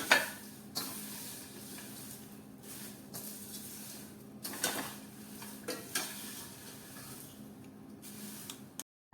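A spoon stirs a dry papad poha mixture in a pan, giving soft repeated scrapes and rustles with a few light metallic taps, fairly quiet and close.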